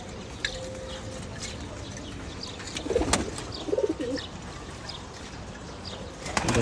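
Pigeons in a coop coo softly as they feed and drink, with a few low coo phrases, a quick flutter of wings and light background rustle.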